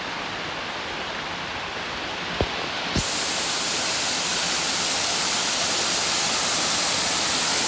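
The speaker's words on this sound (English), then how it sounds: "This is Hermit Falls coming down Basin Trail." Hermit Falls on the Basin Trail pours in a dense, constant roaring rush of water close by, with two brief clicks early on and no talking.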